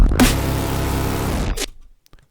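A resampled bass from a glitch electronic track plays plain without its pogo effect: a loud, thick buzzing tone held steadily before it stops, leaving faint crackles.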